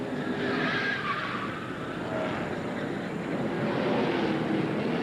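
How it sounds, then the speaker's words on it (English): NASCAR Busch Series race cars skid and crash on track, a sustained roaring engine wash with tire scrub rising and falling throughout, loud and unbroken, with no talk. "We have a crash."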